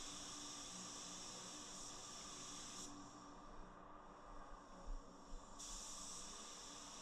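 A Porphis PRD 815 spray gun lays down clear coat, giving a steady close airy hiss that runs continuously and dips briefly in the middle, with no talking.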